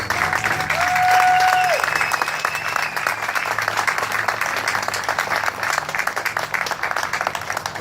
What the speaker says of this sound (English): Let's hear a round of applause for all of our veterans.